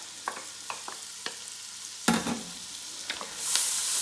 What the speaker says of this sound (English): And you saute them on a low heat.